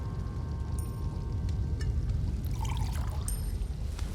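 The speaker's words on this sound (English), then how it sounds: "anoint the altar with the sacred water" In the video game Elder Scrolls Online, sacred water is poured onto an altar. It makes a continuous splashing, trickling pour against a dense background bed, with faint chimes and game effects near the end.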